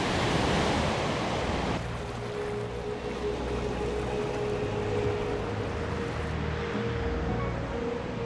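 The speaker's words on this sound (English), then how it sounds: "The waves churn up the sand." Ocean waves pound a wild southern Brazilian shore with a chill wind, producing a continuous, loud roaring wash of surf and broadband wind rush, with no voices.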